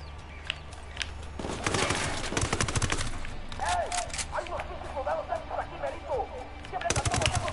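Rapid gunfire in the video game Ghost Recon: loud bursts of automatic shots in close succession, a lull with chirpy voice-like sounds, then another burst near the end.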